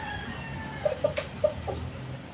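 A Boston sweater gamecock rooster gives three or four short, close clucks in quick succession over a quiet background.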